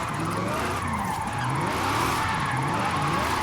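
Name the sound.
Zenvo TSR-S engine and drifting in the video game Forza Horizon 5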